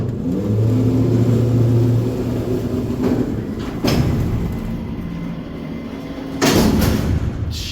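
Montgomery traction freight elevator doors at the Palisades Center in West Nyack operating with a low mechanical hum and rumble, punctuated by a couple of sharp clunks as the doors start and stop, fairly loud and close.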